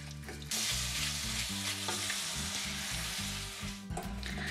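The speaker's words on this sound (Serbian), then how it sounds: "Smanjimo vatru na srednju i nastavljamo da pržimo piletinu." Chicken frying in a pan over medium heat makes a loud, continuous sizzle and crackle close up, with low background music running underneath and no voices.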